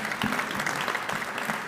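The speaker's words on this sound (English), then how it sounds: "I'm going to clap for myself and all." A speaker at a corporate co-CEO address claps and the audience joins in, producing dense, continuous applause that stays even for under two seconds, with no talking.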